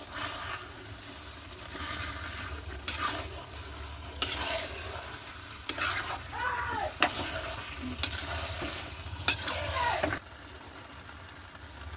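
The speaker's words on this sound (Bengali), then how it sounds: "ভালো করে কষাবো।" Masala for chicken biryani, with the chicken added, sizzles and fries in a pan, broken by several sharp scraping stirs of a spatula; a constant low hiss runs underneath, close and moderately loud, with no talking.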